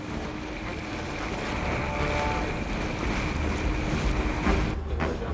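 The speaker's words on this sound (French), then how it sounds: "Au fur et à mesure que le pneumatique aborde les hauts fonds, les vagues se font de plus en plus menaçantes." An inflatable boat pushes through rising waves toward reef shallows strewn with shipwreck debris, with a dense, continuous churn of water and wind roar that swells slightly toward the end.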